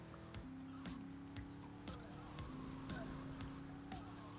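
An Infernus sports car in GTA Vice City slides across grass, its steady engine drone joined by short scrubbing skid bursts and repeated sharp knocks, loud and close.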